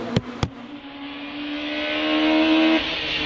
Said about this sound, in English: Anti Reid, Datsun Cherry.